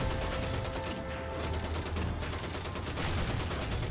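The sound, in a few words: gunfire in a video game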